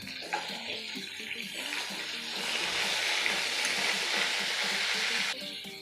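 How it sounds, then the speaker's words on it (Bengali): Bata fish fries in oil with a soft, continuous crackle and hiss that grows louder and fuller halfway through before cutting off near the end. "মাছটাকে ভালোভাবে ভেজে নেব।"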